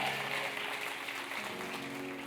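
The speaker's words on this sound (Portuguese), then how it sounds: "Você pode aplaudir ao Senhor?" Church congregation applauding in praise, a steady wash of clapping that holds evenly throughout, with a faint tonal hum underneath.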